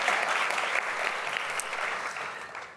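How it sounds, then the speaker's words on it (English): A steady round of applause from an audience for the judges at a student event, dense and continuous, slowly tapering near the end. "Let's give a great round of applause for our judges."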